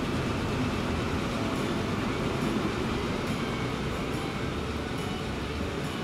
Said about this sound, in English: That's a very bumpy bit of track to go over at 80 kilometers an hour